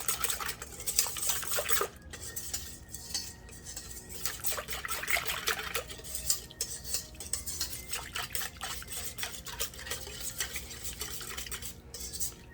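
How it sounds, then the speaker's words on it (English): A whisk works a flour mixture, three tablespoons of flour, in a kitchen bowl, giving a steady run of quick scraping and light clinking against the sides that lasts throughout, fairly faint, with no talking. "And then we're gonna whisk that all together."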